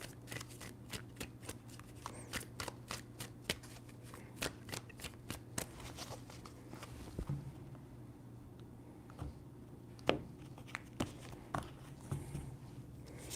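Tarot cards shuffled by hand in a steady run of crisp riffling flicks, close and fairly quiet, with a few louder snaps toward the end.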